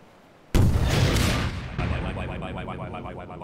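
Gunfire in Half-Life 2: Lost Coast erupts suddenly as a loud, close blast, followed by a second burst and a rapid rattling series of shots that trails off.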